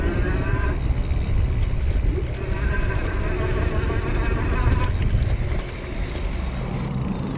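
An Amego Infinite step-thru electric bike rides across grass on throttle, giving a steady rumbling, rattling roar of motor, tires and wind close up for several seconds, easing slightly toward the end.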